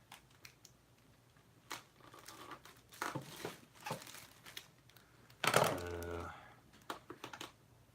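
Scissors cut through the plastic packaging of a heavy collectible toy, with sharp snips and clicks, crinkling plastic and a brief louder burst of rustling and a voice near the middle.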